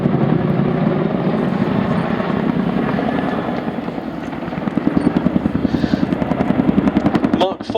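A Chinook Mark IV twin-rotor helicopter displays at the Duxford airshow, its heavy rhythmic blade thump loud and steady, the chopping growing sharper and more pronounced toward the end.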